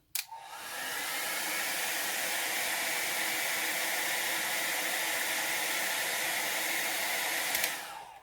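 A hair dryer blows steadily over an alcohol ink painting, a loud, close, continuous whooshing hiss that starts with a click, holds for about seven seconds, then switches off.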